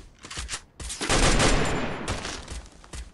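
Rapid bursts of gunfire in the mobile game Free Fire rattle in quick succession, a sustained volley of automatic shots with no voices.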